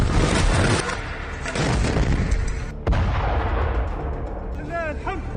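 An Israeli Merkava tank blown up by Hamas erupts in a loud, close explosion, with a heavy roaring blast followed by a second burst and crackling debris.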